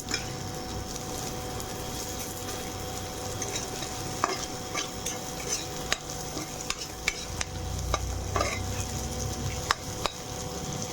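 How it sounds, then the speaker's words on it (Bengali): Bitter gourd slices frying crisp in a pan give a quiet, continuous sizzle close by, broken by sharp clicks and scrapes of a spatula stirring, with no talk. "এইভাবে আমি কড়া করে লাল লাল করে ভেজে নিয়েছি করলা ভাজা"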